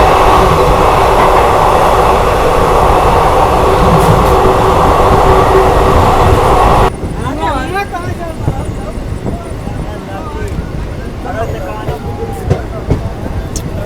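Summer special passenger train hauled by a WAG 9 electric locomotive running at its top speed near Sirathu, a loud steady rumble from onboard that drops to a lighter rattle midway, with faint voices in the background.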